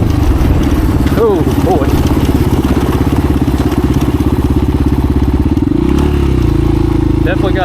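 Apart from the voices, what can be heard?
vintage 1985 Honda XR350R motorcycle riding at speed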